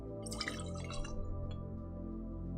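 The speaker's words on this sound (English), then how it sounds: "To each we're gonna add 2 ounces of water." Water being poured into a cocktail glass while mixing a drink, a short liquid trickle and drip over a steady low background hum, with no talking.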